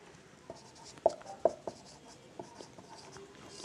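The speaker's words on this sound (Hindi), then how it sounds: "तो आगे हिंदी में लिख दे क्या?" Handwriting on paper while working a Class 10 maths problem, with soft scratchy pen strokes and a few sharper taps, close up, with no talking.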